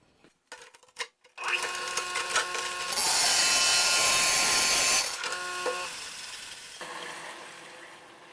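A budget tile saw starts up and cuts a notch into a tile, a whining motor hum that rises into a loud, harsh grinding for a couple of seconds, then eases back to the motor drone before winding down.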